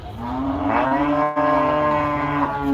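A cow at the Gabtoli cattle market gives one long, loud, sustained moo close by, lasting the whole stretch with only a brief dip midway, over a steady crowded-market background.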